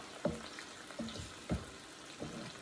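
Onions sauté slowly over low heat in a pan. A soft, quiet sizzle runs underneath, broken by a few short stirring or scraping sounds about every half second.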